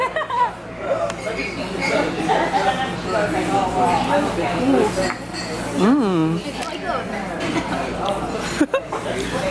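Drinking glasses clink together in a toast amid a lively group of people chatting and laughing nearby, with a few light clinks and clatters under the talk.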